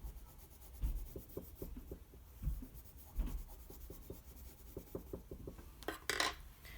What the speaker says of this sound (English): You can see how I'm kind of even burnishing this a little bit by putting that final layer on pretty firmly